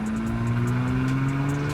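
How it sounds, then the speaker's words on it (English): Steady high turbo whine over a droning engine in a modified 670 whp Audi, loud and close, holding a rising pitch for a moment. "All you can hear is just straight turbo."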